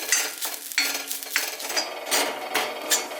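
Grated coconut is stirred quickly while roasting in a pan, with close, rapid scraping strokes of a spoon against the metal and a light dry crackle, repeating in quick bursts.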